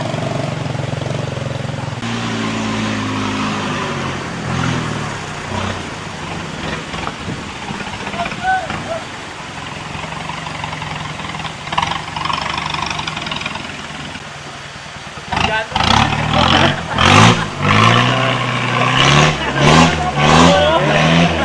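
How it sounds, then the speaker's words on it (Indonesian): A car engine in an abandoned hamlet in Cimeong, Kuningan turns over and revs in rising, uneven bursts, loud and close, with people talking over it throughout. "Mobil, nyalain mobil."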